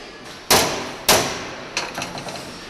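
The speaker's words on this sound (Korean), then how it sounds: "이건 수작업으로 망치를 하지 않으면은 물건이 안 되니까 제품이 안 돼요" Hammer blows on a hand-built steel safe, personal size, in a safe-making workshop: two loud sharp metallic strikes about half a second apart, followed by several lighter, quicker taps, with no talk.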